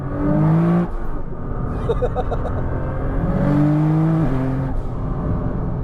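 A 2000 hp Nissan GT-R sports car pulls hard in second gear, the engine revving up loudly, dropping briefly at a shift, then climbing again with a strong rising whine.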